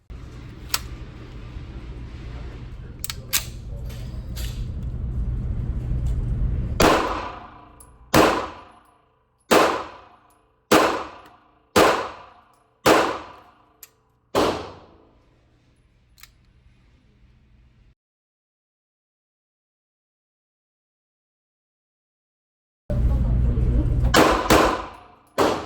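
A Husqvarna M40 Lahti pistol fires about eight sharp, loud shots in a steady, evenly spaced string, each followed by a ringing decay, then silence and a burst of wind noise.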